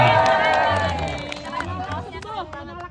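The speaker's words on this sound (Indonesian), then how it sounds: "Oke, tepuk tangan dong buat Kang Anjrit" Audience at a rest-area retreat gathering applauding and cheering together, a dense clatter of clapping with shouts that is loud at first and then thins out, with some voices and chatter mixed in.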